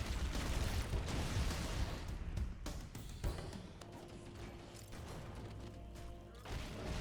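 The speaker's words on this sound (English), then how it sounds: "Well placed grenade." A grenade explodes in the Halo CE video game, giving a loud broadband roar that rumbles and slowly fades, with scattered crackles and game noise after it.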